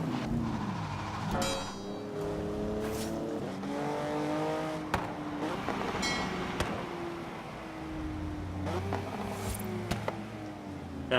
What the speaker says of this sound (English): That backfire is so nice though